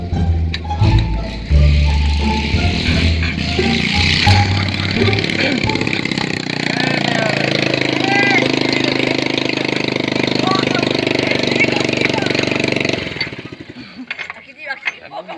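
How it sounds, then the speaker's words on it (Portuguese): A motorcycle with a replaced exhaust runs loud and close, a rough rumbling idle with uneven revs and rattling that drones on steadily before cutting off near the end, with voices talking over it. "Acaba de ligar a moto."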